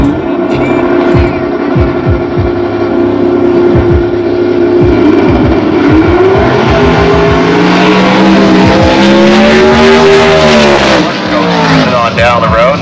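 A Corvair race car at speed on track, its engine a loud continuous drone rising in pitch with revving and tire squeal, heard close alongside talk.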